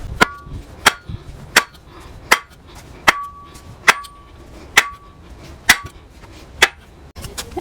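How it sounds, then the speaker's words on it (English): A sledgehammer pounds a scrap piece of 4x4 lumber down into the ground, landing about ten sharp, ringing blows at a steady rhythm of roughly one every three-quarters of a second, loud and close. "take a scrap piece of 4x4 and get it in here and just hammer it down. Sledgehammer is your best friend here."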